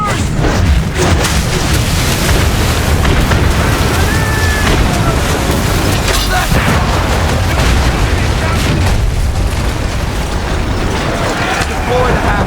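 Mortar barrage in an Assassin's Creed 3 naval battle against a fort, with heavy booming blasts and mechanical clatter forming a dense, loud wall of sound while voices call out.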